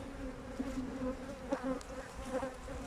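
Honeybees buzz continuously close by, a dense steady drone with slight wavering in pitch and no voices.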